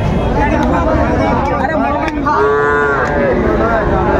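A Sahiwal bull calf moos in long, drawn-out calls at a busy cattle market, its voice rising over a steady crowd babble with people talking close by throughout.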